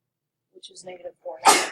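A single sharp sneeze bursts out near the end, right after a few spoken words in a pre-calculus classroom lecture.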